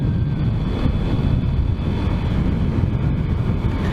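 A Honda Grom motorcycle rides through a small town in Zion, Illinois. Steady wind rush and low road noise dominate throughout, with the small engine buried beneath the buffeting.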